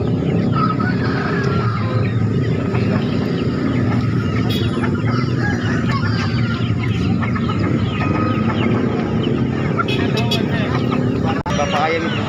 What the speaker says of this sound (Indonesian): Ayam muda nih.